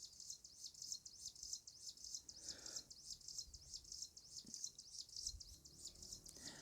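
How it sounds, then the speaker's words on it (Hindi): A bird chirps in rapid, steady repetition, a thin high twittering that runs continuously at a moderate distance over a quiet background, with no voices. "अभी यहाँ एक चिड़िया की आवाज़ आ रही है"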